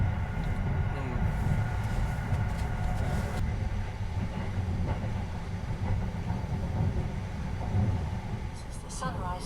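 Sunrise Seto sleeper train bound for Takamatsu rumbles along the rails, a steady low interior roar with faint rattling throughout.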